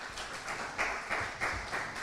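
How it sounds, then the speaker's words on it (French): An indoor audience at an evening debate event applauds a guest as he is introduced, a dense, even wash of many hands clapping at moderate distance. "Je vous demande, s'il vous plaît, d'applaudir notre second invité, Jean-Michel Chassoriau."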